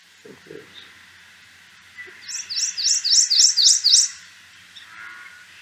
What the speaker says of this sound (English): This bird has a pretty typical loud warbler song.